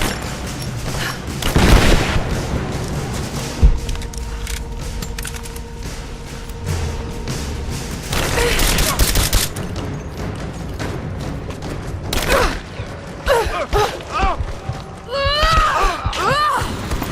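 Gunfire and booming blasts in the video game Rise of the Tomb Raider, coming in bursts amid game sound and music with some speech, loud and close, with a heavy impact early on and shots scattered through the rest.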